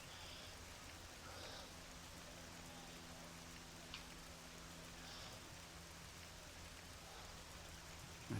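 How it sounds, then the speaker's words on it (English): Heavy rain falls steadily in a Tiger Woods 14 golf video game, a soft, even hiss that holds faintly and unbroken throughout, with no voices. "this is the strongest rain that I've been in"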